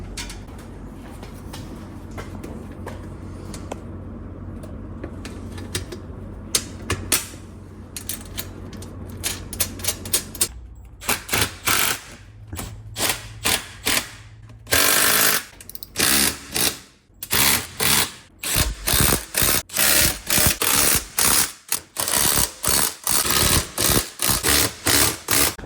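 Bolts are tightened on C10 truck parts with a power tool, starting quietly and then turning into rapid, loud ratcheting hammering bursts that repeat in close succession, with no talking.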